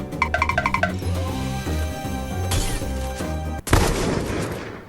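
A sniper rifle fires in a video game: one sharp, loud shot cracks out near the end, after a stretch of rhythmic electronic tones and clicks.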